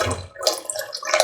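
Water splashes and gurgles briefly as it is poured into a dissolved tamarind mixture in the kitchen, a short close burst of liquid with no voices.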